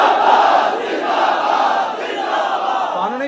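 A large crowd at a religious rally in Sheikhupura roars a slogan in unison, a loud, sustained mass of voices that swells and holds for several seconds before tapering off.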